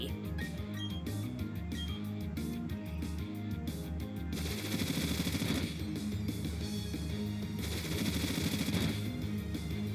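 Rapid bursts of Bullet Seed from a Pokémon Brilliant Diamond battle, a quick string of sharp pops firing in a steady rhythm over game music, turning into a denser, harsher rattle partway through.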